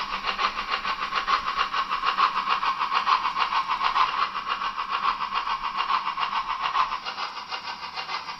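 A Märklin 39498 model steam locomotive runs with a steady, close, buzzing motor whir and rapid fine chuffing that continues evenly throughout and eases slightly toward the end.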